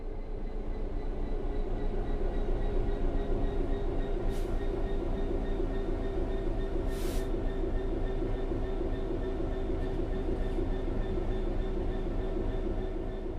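A simulated train in Train Sim World 3 coasts along level track with the throttle closed, giving a steady low rumble and hum with faint clicks and a couple of brief hisses, no voices.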